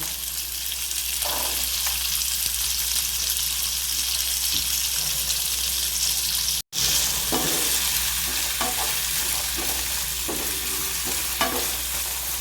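Beans, carrots and capsicum stir-frying in a pan, with a steady close sizzle and scattered scraping stirs throughout, no talk.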